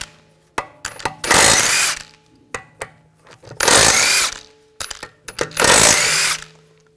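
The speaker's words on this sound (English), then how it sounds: "Using a 17 millimeter socket, take the lug bolts out." Power tool with a 17mm socket spinning out the rear wheel lug bolts on a 2004-2009 Audi A4 Quattro, three loud, close bursts of a couple of seconds each, separated by short clicks and handling noise.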